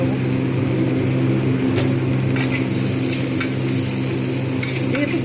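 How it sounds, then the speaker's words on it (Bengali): Onions fry in hot oil for an egg curry, a steady dense sizzle running throughout with a few brighter crackles and faint clinks, no voices. "পেঁয়াজগুলোকে আমি কিন্তু ভালো করে এগুলো ভেজে নেব"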